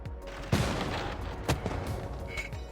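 Gunfire and a bombard cannon attack in the strategy game Civilization VI: two heavy booming shots about a second apart, each with a short rumbling tail, over a steady game-sound bed, followed by a lighter distant shot.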